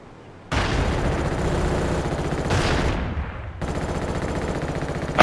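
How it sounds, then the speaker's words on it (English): Rapid automatic gunfire from an enemy player in an online shooter, close and loud: two long sustained bursts separated by a short pause, with no talk over them. "That's the guy that's shooting at me right now."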